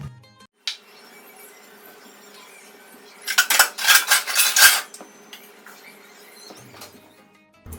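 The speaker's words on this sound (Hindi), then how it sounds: "तो सब्जी को निकाल कर दूसरे बर्तन में कर लेते हैं, कढ़ाई खाली कर लेते हैं।" A vegetable curry being moved from a wok into another pot, with a burst of rapid metal scraping and clinking of utensil against cookware in the middle, quiet handling before and after.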